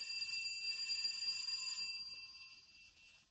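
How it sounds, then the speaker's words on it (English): A doorbell rings in an old-time Superman radio drama, a single sustained electric chime that holds steady then fades out, alone without speech. "I'll try the bell."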